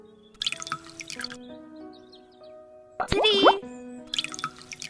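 Bottled water being poured into a bowl, a short gurgling pour with rising pitch near the end, set between bursts of a person talking and counting.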